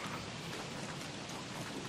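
Steady rain in the survival video game Don't Starve: Reign of the Giants, a constant soft hiss with no voices.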